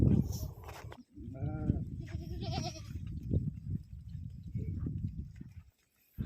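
Pregnant sheep bleating a few times while being given tonic, short wavering calls over a person talking and shuffling, rustling movement nearby.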